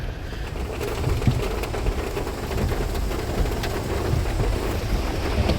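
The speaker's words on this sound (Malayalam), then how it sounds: "ഇവിടെ ഇത്രയും മഴയാ, ഭയങ്കര മഴ." Heavy rain falls in a dense, continuous wash near Trivandrum airport, with low rumbling underneath suggesting distant thunder, steady and fairly loud throughout without voices.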